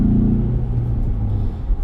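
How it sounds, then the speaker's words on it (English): A 2023 Ford Bronco Wildtrak four-cylinder engine rumbles steadily at low pitch, a close, even drone with slight pitch wavering. "I'm actually enjoying the sound of this 4-cylinder."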